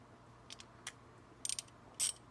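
A ratchet wrench clicks in short bursts while tightening a part under a truck hood, sharp close metallic ticks in small quick groups over a quiet background hum.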